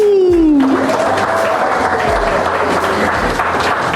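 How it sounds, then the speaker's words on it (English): Loud, sustained applause from the audience at a women empowerment panel, filling the room continuously for several seconds, with a brief voice at the very start. "you actually deserve a round of applause for honoring the theme"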